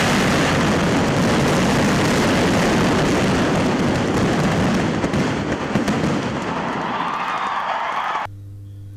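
A dense, continuous roar of fireworks bursting nonstop at the Uthralikavu Pooram temple festival, loud and crackling, ending abruptly into a low hum.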